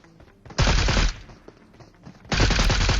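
Gunfire in the video game PUBG: two loud, dense bursts of rapid shots, the first lasting about half a second and the second starting near the end and running to the close, with quieter game ambience between them.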